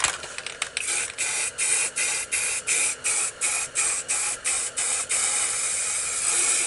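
A spray paint can hisses loudly in a rapid series of short bursts, then settles into one longer continuous spray, fading blue colors together on a painting.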